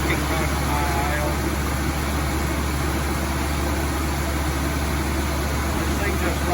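A 1955 Chevrolet engine runs at high idle, a steady, even low drone that holds without change throughout.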